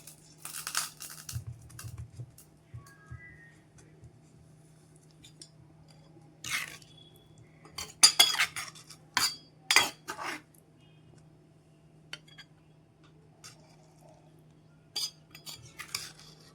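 Covered pot of Kerala fish curry being opened in a home kitchen: a few sharp metallic clinks and clatters of lid and utensils spread over quiet stretches, with a steady low hum underneath.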